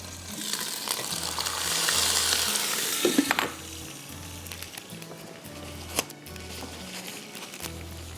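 Blended tomato with ginger and garlic paste hits a hot pan for a Lagan Qeema, giving a loud hissing sizzle that swells then settles into a steady fry with occasional clinks of a utensil.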